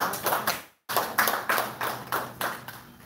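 Audience applause at a Rwandan HIV-prevention gathering, a run of rhythmic, fairly close hand claps in distinct bursts that break off for a moment partway, then resume in steady waves.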